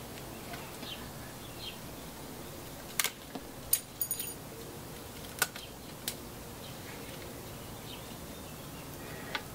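Pruning shears snipping wild olive bonsai branches, a few sharp, faint clicks and snips clustered in the middle over a quiet background.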